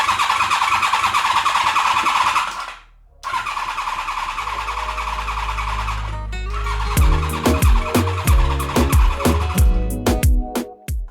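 A Honda VFR 750 V4 motorcycle with no muffler cranks over and fires up, a loud, raw burst of rapid exhaust pulses and deep rumble that follows an earlier stretch of broadband noise and a brief drop to near silence.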